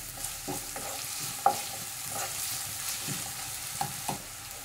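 Salted onions sautéing in a pan for a kurma, stirred repeatedly with soft scrapes and taps over a constant close, moderate sizzle.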